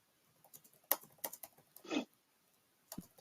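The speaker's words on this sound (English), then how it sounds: "I'm just typing a message." Typing on a computer keyboard, quiet and close: scattered sharp key clicks in uneven bursts with short pauses, one heavier thud near the middle and a couple of final taps.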